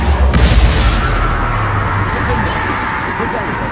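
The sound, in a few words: Confrigo blasting spell explosion in the video game Hogwarts Legacy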